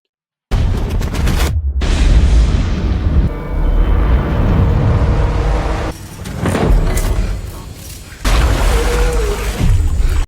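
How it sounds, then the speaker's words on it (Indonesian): A bomb blast from a military action film: a loud, sustained broadband roar with heavy low rumble lasting several seconds, dipping briefly and then swelling again, with no speech. "2, 1, bom pun meledak."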